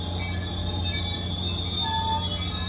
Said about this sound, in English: here comes a Union Pacific train going by here, too.